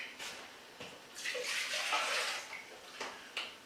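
A pint of water pours into a pot on a stove, making a continuous splashing and trickling rush near the microphone that swells in the middle and then tapers off.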